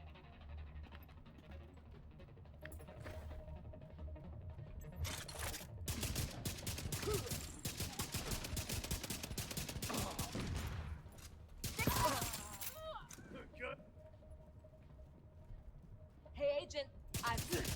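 Merciless rifle firing in The Division 2, several rapid bursts of automatic gunfire between quieter gaps, the longest stretch in the middle, with a voice talking at times.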